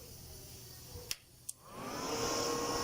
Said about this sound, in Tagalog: So on ko na yung welding.